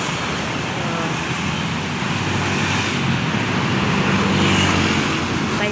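Steady wash of car and motor traffic along a city street in Tasikmalaya on a Saturday morning, a continuous mid-distance roadway rumble with no single vehicle standing out.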